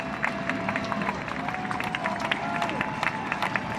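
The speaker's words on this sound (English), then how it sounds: "The crowd comes to its feet." A baseball crowd in an NCAA game between Florida Atlantic and Southern Mississippi rises and cheers, a steady broad roar with scattered claps and shouts under a commentator's voice.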